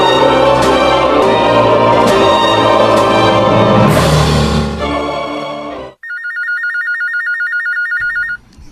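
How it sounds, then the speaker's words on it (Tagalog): Telephone bell ringing loudly in a home, repeated rapid electronic trills that follow a loud burst of music and sharply cut off. "ang telepono"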